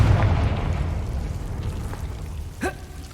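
Confringo fire spell explosion in Hogwarts Legacy: a rumbling fiery blast that fades into a crackling roar, with a brief bright whoosh near the end.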